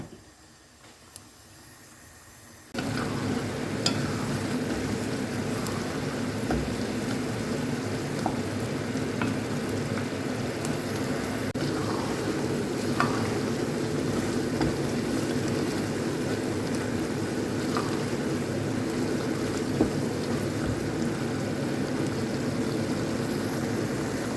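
Beef cooking in a covered pot for a South Sudanese dish, frying in its own juices: a steady close sizzle and bubbling hiss that starts abruptly about three seconds in and continues without break, no talk.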